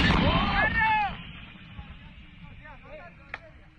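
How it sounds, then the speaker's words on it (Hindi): Artillery fire from Iranian guards at the Nimroz border crossing sounds as a loud burst with a rumbling echo at the start, followed by fainter distant pops and a sharp crack near the end. "ईरानी गार्ड ने तालिबानी लड़ाकों पर तोप से की गोलीबारी।"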